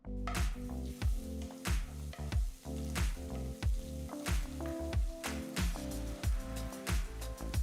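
Cumin seeds, red chilies, ginger and garlic sizzle in ghee and oil in a kadai, a steady close frying crackle with rhythmic stirring or tapping beats running throughout.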